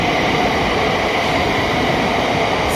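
A Thameslink train rolls through the low level platforms at London St Pancras International, a loud, dense, unbroken rumble filling the underground station.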